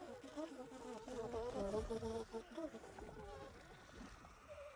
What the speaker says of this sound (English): Wonder if there's some bees over there.